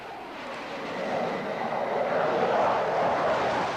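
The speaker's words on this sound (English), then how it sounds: "These are F-16 Fighting Falcons, carrying cluster bombs and air-to-air missiles in Operation Desert Storm." Roar of F-16 Fighting Falcon fighter jets carrying cluster bombs and air-to-air missiles during Operation Desert Storm, a steady, loud broadband jet rumble that swells slightly over a few seconds with no voices.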